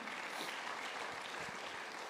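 Congregation at a sermon clapping, a dense, even wash of applause filling the whole moment at moderate level with no voices over it.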